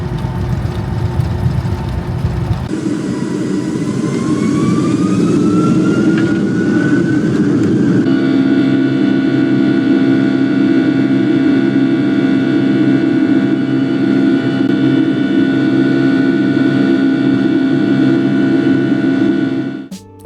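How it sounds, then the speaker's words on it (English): Loud, steady Boeing 757-200 jet engine roar from inside the economy cabin, swelling sharply early on and rising in pitch as the engines spool up for takeoff, then holding a sustained whine. "we're about to take off here very shortly and listen to the engines of the 757"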